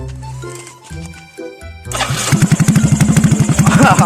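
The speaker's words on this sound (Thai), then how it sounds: "ท่อไม้ไผ่ครับท่อไม้ไผ่อะ โอเคเดี๋ยวเรามาฟังเสียงกันเลยนะครับผมชัดๆเลยนะค" Motorcycle fitted with a homemade bamboo exhaust pipe cranks through several short starter attempts, then catches and idles loudly up close with a rapid, throbbing pop-pop beat.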